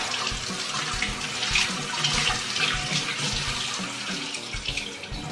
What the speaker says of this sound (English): So run it under quite a bit of water.